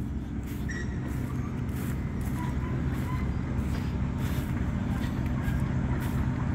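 A Kobelco SK-100 excavator works in soft, muddy ground, its diesel engine a loud, continuous low drone with faint clanks over the top.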